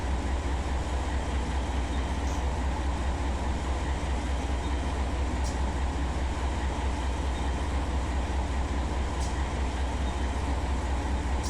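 Steady rumble of a grain freight train rolling along in Run 8 Train Simulator, a constant dense drone of wheels and cars with faint occasional clicks, no voices.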